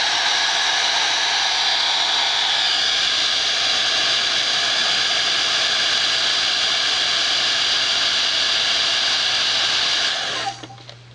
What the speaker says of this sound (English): Now, I know some guys don't like the idea of using a hairdryer